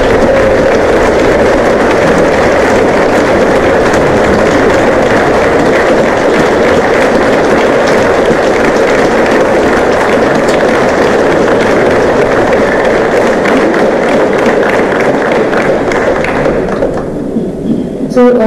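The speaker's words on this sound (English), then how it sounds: "A round of applause for those." Sustained, loud applause from a keynote audience as community contributors are called onstage: dense, even clapping that carries on for about eighteen seconds before thinning out at the very end.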